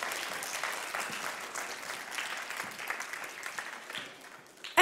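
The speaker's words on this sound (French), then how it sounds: "Applaudissons-le, vous avez raison." An audience claps for an ASIMO humanoid robot demonstration, a dense, steady burst of applause from a crowd that carries on throughout and ends with a sudden sharp sound.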